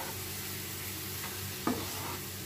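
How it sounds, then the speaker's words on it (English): Mango cake batter being mixed in a bowl, a steady close scraping and swishing that runs throughout, with one brief clatter of the utensil partway through. "now it's time for us to mix it"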